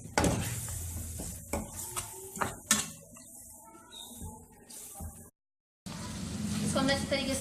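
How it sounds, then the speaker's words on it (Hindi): Yogurt and spice masala frying in a pan for a keema bhindi, with intermittent stirring scrapes and clinks over a steady sizzle, broken by a brief silence midway; a voice speaks at times. "दही, और ये सारे मसाले, इसको अच्छी तरीके से भून लेंगे"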